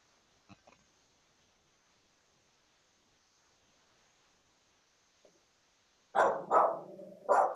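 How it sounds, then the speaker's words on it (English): A dog barks on a video call, three loud close barks in quick succession after several seconds of near silence with faint clicks. "Whose dog is that?"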